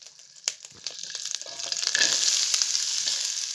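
Onion and garlic frying in a small piece of butter in a pan, a steady close sizzle that swells and thickens after the first couple of seconds, with a few clinks of stirring.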